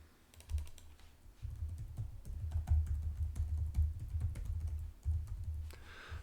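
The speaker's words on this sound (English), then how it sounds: "I'll just type it in." Rapid keystrokes on a computer keyboard clatter in steady bursts, close and fairly quiet, with a brief pause near the end and no voices.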